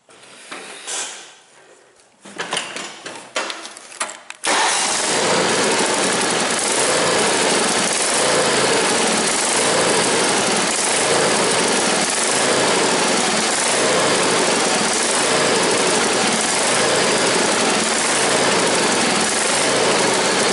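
A Sears riding mower engine is cranked and fires up, a few rough sputters giving way to a loud, steady idle that drones on close by without pause.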